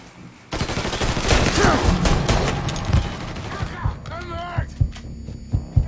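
Rapid gunfire in Mafia III, a dense fusillade of loud close shots and thuds in quick succession that thins into scattered bursts, with someone shouting over the shooting.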